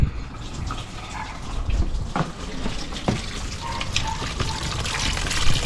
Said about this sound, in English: By loosening this cap, we allow air to enter and fluid drain out.